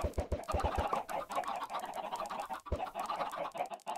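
Minecraft chickens clucking in a crowded pen, a busy stream of overlapping short clucks and pecking ticks, close and continuous, with no voices.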